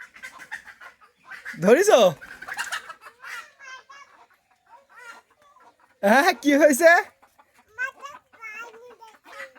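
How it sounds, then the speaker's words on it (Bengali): Chickens cluck and squawk, one perched up on a tin roof, with two loud bursts of agitated clucking separated by softer scattered calls, while a person speaks briefly in between. "এই মুরগি তো টিনের চালের উপরে"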